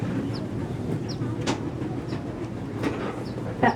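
A zoo tour train rides along its rails past animal exhibits, giving a steady low rumble with periodic clicks and clacks from the wheels and occasional faint bird chirps in the background.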